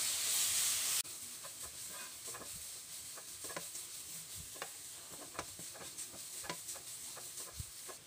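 Carrots frying in ghee in a pan, giving a steady soft sizzle with scattered crackles and faint stirring scrapes throughout, following a brief louder hiss at the very start.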